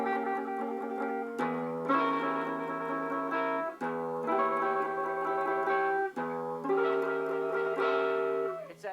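A guitar strums diminished chords in a tense, suspenseful style, three or four sustained ringing chord hits each followed by a quick change, clear and close with no talking.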